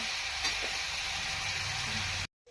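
Chicken sizzling in a hot wok, a steady crackling hiss that runs briefly and then cuts off to silence.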